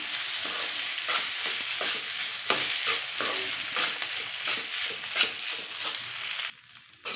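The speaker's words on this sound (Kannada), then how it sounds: "ಈ ಗೊಜ್ಜಿಗೆ ತಕ್ಕಷ್ಟು ಅನ್ನ ಸೇರಿಸ್ಕೊಳ್ಳಿ ಈಗ ಚೆನ್ನಾಗಿ ಕಲಿಸ್ಕೊಳ್ಳಿ" Cooked rice being stirred into eggplant gojju in a hot pan, close rhythmic scraping strokes over a continuous sizzle, the stirring ending abruptly just before the close.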